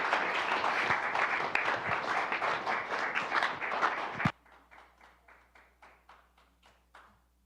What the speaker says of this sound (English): let's give a warm round of applause for Oscar Butler